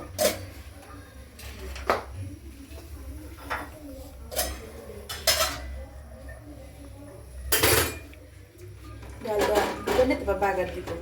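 Chopping lentils or vegetables with a knife in a home kitchen while beef and cauliflower cook; sharp, irregular knocks and clinks of blade on board and pots, near, with someone talking over them.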